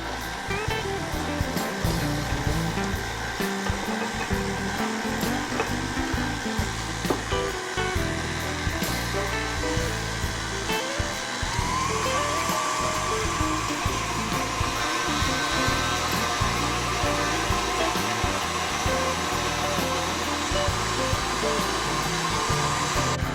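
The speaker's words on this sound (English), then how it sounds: "we're just going to blend this until it's light and creamy" A countertop mixer locked in place whirs steadily as it blends red velvet cake batter with vegetable oil, a loud continuous motor drone with a slight pitch shift partway through and no talking.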